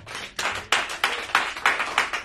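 Church congregation clapping together, a ragged burst of handclaps settling into repeated loud waves of applause with no talk over it.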